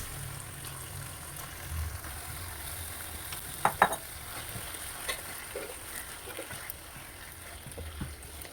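Washed liver fries in a pan with a low, faint, steady sizzle, broken by a couple of brief utensil clinks near the middle and a few softer taps afterward.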